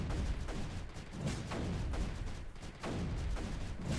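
Mortars in the strategy game Creeper World 3 fire in a steady, repeating series of dull booming thumps, dense and continuous across the stretch with brief gaps, without talk.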